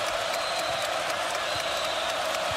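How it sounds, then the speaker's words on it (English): A basketball arena crowd at a Purdue game roars and cheers in a steady, dense wall of noise, with faint calls rising out of it. "Crowd has not been as loud as normal, but now they're getting into it again"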